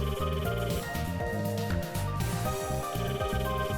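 Telephone ringing in the detective game Emio – The Smiling Man: Famicom Detective Club, a steady electronic ringtone with a repeating tonal melody that plays continuously and alone, without voices.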